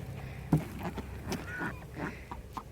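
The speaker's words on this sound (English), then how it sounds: "Ducks might be my favorite this year." Young farm ducks honk and quack in a few short, scattered calls, fairly quiet and close, with faint background noise between them.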